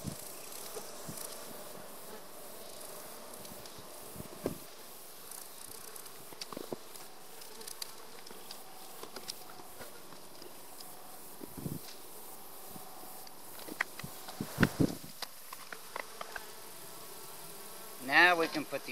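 Honey bees buzz around an opened beehive during a hive inspection, a steady faint drone with scattered louder passes and rustling, brief handling noises, with a louder burst near the end.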